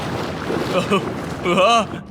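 Water sloshes inside a large tube as it is shaken, with turbulent watery swishing that swells near the end, while people talk over it.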